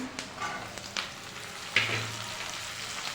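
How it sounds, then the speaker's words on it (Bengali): Steady frying sizzle of chopped carrots and beans in a pan, with a few light scraping stirs and clinks; no voices. "গাজর কুচি ভালো করে ভেজে নেবো"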